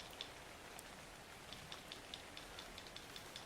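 Steady rainfall in the ARK: Survival Evolved video game, a faint continuous hiss with light drop ticks scattered across it, heard alone with no talking.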